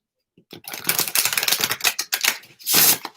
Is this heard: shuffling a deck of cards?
yes